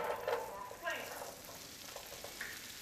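Dried potatoes dropped into hot butter over high heat, sautéing with a soft, faint sizzle and a couple of stirring scrapes, steady and fairly quiet throughout.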